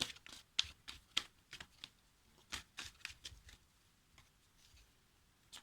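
Tarot cards are shuffled close by in a quiet room, a series of crisp, brief riffles and slaps in irregular bursts that fade toward the end, with no talking.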